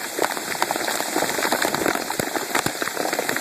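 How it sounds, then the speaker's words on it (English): Hail pelts a new Chevrolet Camaro SS and a sheet of cardboard held overhead during a storm, a dense, steady clatter of hard pellets with sharp individual ticks, loud and close throughout. "Hail's been coming up for 10-15 minutes now."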